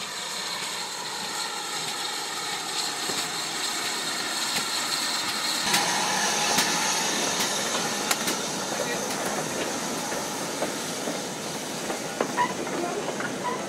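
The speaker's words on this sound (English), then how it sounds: "The goods train is returning." A steam-hauled goods train rumbles past steadily with a broad hissing roar and occasional metallic clanks, sustained throughout at moderate distance.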